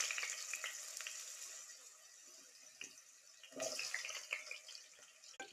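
Diced potatoes fry quietly in oil, giving a faint, steady sizzle with occasional louder crackles and spits, heard alone without talk.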